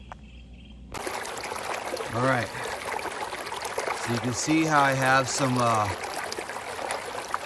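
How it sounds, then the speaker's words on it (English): A backyard garden pond waterfall switched on, water pouring and trickling steadily after a quiet start, with someone talking over the continuous splash. "So I'm gonna turn on the waterfall here and see what's happening"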